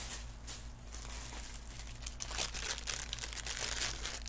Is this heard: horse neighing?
no